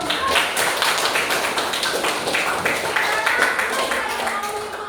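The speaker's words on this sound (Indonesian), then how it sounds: "Kita masih tepuk tangan dulu." A classroom of students claps hands together in a dense, continuous patter at moderate loudness, with a voice or two mixed faintly underneath.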